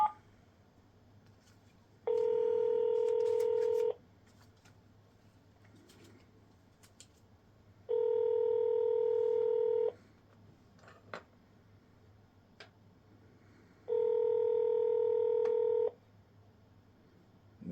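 Telephone ringback tones on a call to a congressman's office, three long buzzing tones of about two seconds each, spaced evenly by quieter gaps with faint background hiss.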